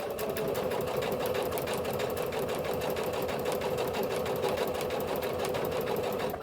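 A sewing machine stitches stretched elastic onto a turban cap, running in a steady, continuous rapid whir with dense needle clatter, close and loud and uninterrupted throughout.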